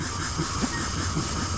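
A hissing fire device in Garry's Mod gives off a loud, steady, rushing hiss like escaping steam, with faint rhythmic pulsing throughout and no speech.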